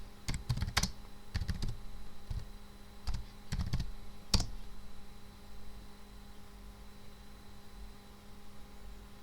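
Computer keyboard keys tapped in a few short bursts of crisp clicks over the first four and a half seconds, then a quiet room hum carries on alone to the end.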